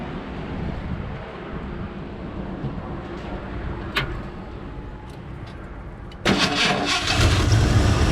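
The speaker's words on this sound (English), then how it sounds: "now we'll start the engine and see if there is any leaking or it's still working" A truck camper's engine cranks and catches around the six-second mark after a stretch of steady background rumble, then settles into a loud, close idle.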